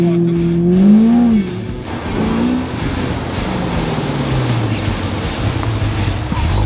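A Hennessey-tuned Chevrolet Camaro ZL1 revs hard close by, its engine pitch rising and falling in loud sweeps before settling into a rough, throbbing idle rumble, with people chattering underneath.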